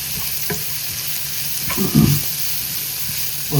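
Leeks and string-hopper noodles stir-fried in a pan, a steady sizzle with a few distinct scraping strokes of the spatula, close and moderately loud, with no voices.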